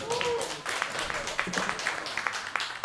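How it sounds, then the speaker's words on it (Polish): A crowd at the Silly Venture 2025 demoscene party applauds a special guest with scattered, fairly faint clapping that carries on steadily under a host's speech. "Tak, także wielkie brawa jeszcze raz dla gościa specjalnego Briana."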